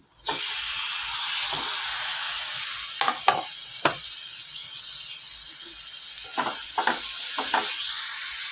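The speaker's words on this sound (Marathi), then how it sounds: "तिखट घातल्या त्याच्यानंतर आपल्याला टमाटर घालून घ्यायचं आहे।" Tomatoes with chili powder fry in hot oil, giving a steady sizzle, while a spoon stirs the pan in a few short scraping bursts up close.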